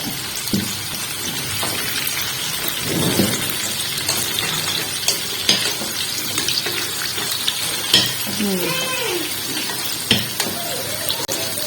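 Coconut modak (kobbari modaka) frying in hot oil gives a steady crackling sizzle with occasional sharper pops and clinks of utensils, while people talk over it at times.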